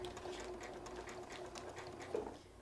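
A sewing machine stitching a straight stitch then a cross stitch for a St. Patrick's parade project, a steady fast mechanical whir and ticking, faint and close with no talking.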